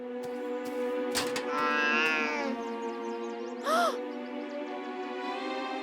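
A cartoon cat meows in a drawn-out, wavering cry over a steady musical background, followed by a second short, sharp meow near the end.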